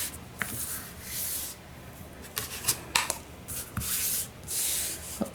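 Scrapbook paper page being trimmed down to 8.5 inches: a handful of short, dry scraping and rasping slides of the blade through the paper, with quiet handling in between, close and fairly soft, no talking.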